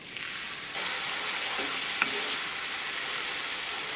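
Tomato puree hits a pan of melted butter with ginger, garlic and green chili paste, jumping from a quiet hiss to a loud, steady frying sizzle with a brief clink of the utensil, no talking.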